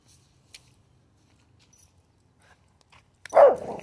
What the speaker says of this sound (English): Stop barking at planes.